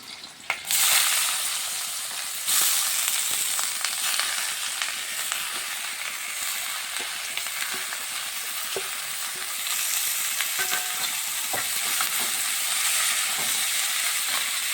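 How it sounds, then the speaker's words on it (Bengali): Gourd peel tossed into hot oil with black cumin seeds and green chili, frying with a loud, steady sizzle and crackle that runs unbroken throughout, with occasional stirring scrapes and no talking. "কালো জিরেটা ভাজা হবে সুন্দর, আর কাঁচা লঙ্কাটা ভাজা হবে।"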